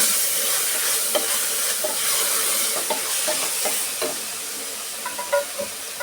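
Vegetable pulao in a pan being stirred as garam masala and coriander powder are mixed in, a constant hiss of frying under a run of scraping, knocking spoon strokes, close and with no voices.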